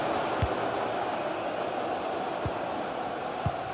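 Stadium crowd roar in FC 24 during a Premier League match between Arsenal and Brentford, a continuous broad wash of fan noise with a few faint thuds, no commentary over it.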